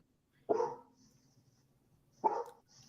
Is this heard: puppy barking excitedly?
yes